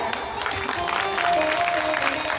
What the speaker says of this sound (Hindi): इनके लिए सुंदर सी तालियां